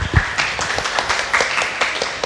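A small audience at a Korean literary talk event claps in a short burst of applause, a dense patter of hands that rises and falls over about two seconds.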